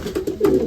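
A young racing pigeon, a wet checker, gives a few soft, low coos in quick succession, close and clear with no talking.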